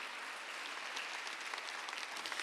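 A church congregation claps together during a Sunday worship service, a dense, steady wash of many hands that carries on evenly throughout without any speech.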